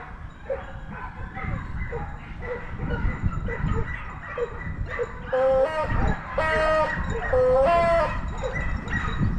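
A pack of hunting dogs bays and barks while chasing a roe deer during a driven hunt, the yelps and howls rising and overlapping at middle distance, with human voices heard alongside.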